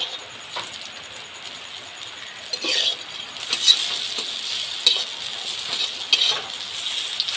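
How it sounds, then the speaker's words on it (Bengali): Lentil and potato fritters deep-frying in hot mustard oil in a village pan, a steady broad sizzle with occasional sharper crackles and pops, close and continuous with no voices. "এবার কড়া করে ভেজে নিব।"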